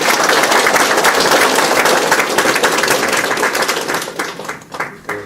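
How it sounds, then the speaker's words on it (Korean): A crowd at a political town-hall forum gives loud, dense applause to welcome a former minister and party leader, the clapping holding strong before thinning and tapering off in its last moments. "뜨거운 박수로서 환영해 주시기 바랍니다"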